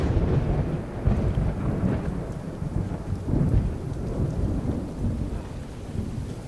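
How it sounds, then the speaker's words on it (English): Rain falls at the port of Dublin as a steady, dense wash of noise with a low rumbling undertone that continues without pause. "In the rain."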